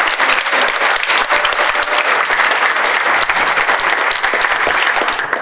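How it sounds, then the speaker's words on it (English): An audience at a 2018 Hillsboro online academy graduation ceremony claps loudly for the school board, producing dense, sustained applause throughout that thins slightly at the very end. "So I think we owe them all a very big round of applause."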